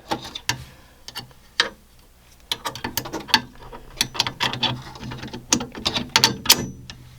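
A magnetic blade is pushed into the blade holder of an xTool M1 laser and blade cutter and felt into place, giving a run of sharp, close plastic-and-metal clicks and ticks at an irregular pace. No one speaks.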